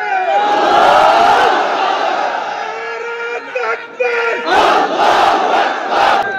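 A large crowd at a religious sermon gathering shouts takbir in unison, loud and close, with long swelling chants and sharp bursts of massed voices.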